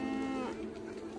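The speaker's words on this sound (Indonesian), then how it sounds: "Betapa mengeluhnya hewan dan gempar kawanan-kawanan lembu" A single cow lets out a long, loud, distressed low as part of a scene of a lowing herd, the drawn-out moo fading into a quieter background.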